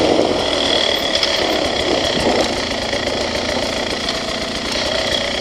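A 2021 Beta 300RR Race Edition motorcycle engine runs steadily on throttle close by, a continuous loud two-stroke drone with slight surges and no voices.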